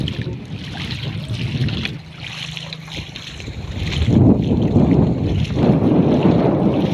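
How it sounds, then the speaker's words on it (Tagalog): Strong wind from a typhoon roars and buffets the microphone steadily on a bayside, with rushing gusts swelling louder toward the end and no voices. "ang lakas ng hangin"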